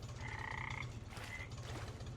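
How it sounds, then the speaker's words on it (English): Frogs croak by a pond in the Farming Simulator 25 video game, a steady layered chorus of low pulsing calls with brief higher trilling croaks over it, fairly loud and continuous with no talking. "I hear frogs."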